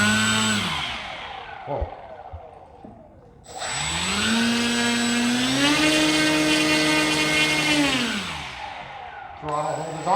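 A Dynam Sonic electric RC plane's motor spins up to a loud, steady rising whine with strong harmonics, holds for several seconds, then winds down, with a brief exclamation from a nearby person before it starts.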